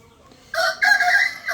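A young cockerel crows close by, a loud strained call in two quick bursts after a short quiet start, with no talking over it.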